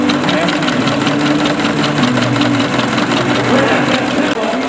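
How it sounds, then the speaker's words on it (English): A hit-and-miss engine drives a corn sheller at a county fair, giving a steady, loud mechanical drone with a low rhythmic thump and a busy whirring rattle that runs unbroken through the clip. "this hit and miss engine is powering what looks like a corn sheller"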